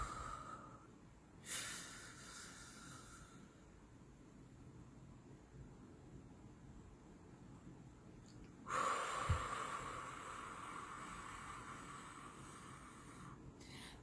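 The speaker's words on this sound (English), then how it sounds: "First off, I exhale any residual air, breath in my lungs." A breathing exercise: a sharp, audible exhale, a long quiet held pause, then a forceful inhale-exhale rush of air close to the microphone, with faint background hiss throughout.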